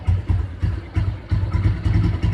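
A TVS Victor motorcycle engine idles close by with a steady, lumpy chug of regular low pulses and faint mechanical clatter, with no one talking.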